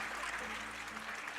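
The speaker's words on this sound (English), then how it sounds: "a big round of applause for our next guest," Studio audience applause for a guest on a TV show, a steady dense wash of clapping that fills the short moment without pause.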